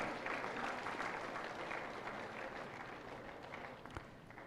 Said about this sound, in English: A big applause, round of applause, please.